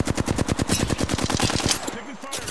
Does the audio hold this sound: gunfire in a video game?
yes